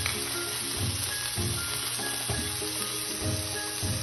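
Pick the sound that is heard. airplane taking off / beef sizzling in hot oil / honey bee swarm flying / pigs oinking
beef sizzling in hot oil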